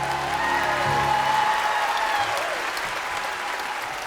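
Theatre audience at the London Palladium giving a standing ovation, dense sustained applause and crowd roar filling the hall, with a sung or spoken tone fading out early.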